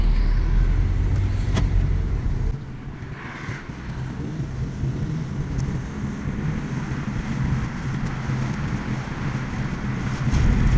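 A passenger car out on a test drive after rear suspension work, with steady road and engine rumble and wind noise heard from inside, continuous and fairly loud.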